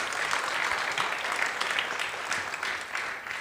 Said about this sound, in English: I think we can give him an applause for the presentation.